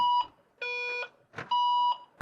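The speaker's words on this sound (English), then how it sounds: "And then we heard an alarm that nobody wants to hear." A boat's marine radio sounds its distress alarm: a loud, close electronic tone alternates between two pitches in short bursts of about half a second, with no voices.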